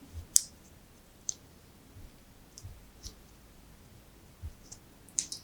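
A small plastic dynamo connector for bicycle LED lighting is prised open, giving a handful of faint, sharp, irregularly spaced clicks in a quiet room.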